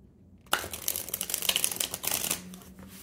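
Tarot cards being shuffled by hand, a dense run of papery riffling and flicking that starts abruptly, fairly close and moderately loud, then fades away near the end with no talking.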